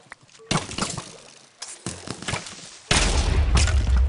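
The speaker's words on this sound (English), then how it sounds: "MK is prepping the cannon" Cannon fire in a Minecraft-style wool race game, heard as a series of sharp booming blasts and thumps, with a sustained loud barrage toward the end.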